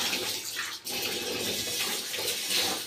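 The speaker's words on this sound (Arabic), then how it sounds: "يا رب اسيب بقى الميه شغال" Tap water runs steadily into a sink for washing lentils, a constant close splashing rush with no speech.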